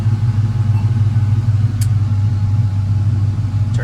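A 1991 Toyota Land Cruiser HZJ75 with a swapped 6.0 LS V8 idles after a cold start, a steady deep rumble held close and loud, with a couple of brief faint clicks over it.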